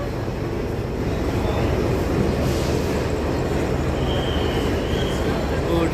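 A continuous heavy rumble and roar of a train arriving close by, steady throughout with no clear voices standing out.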